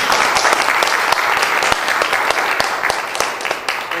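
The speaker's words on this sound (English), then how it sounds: "So can we give them a round of applause?" Audience applause at an evening presentation, a dense, loud wash of many hands clapping continuously from start to finish, with a few sharper claps standing out.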